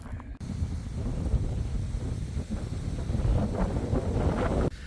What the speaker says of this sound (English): Right now, it's a little cold and windy out.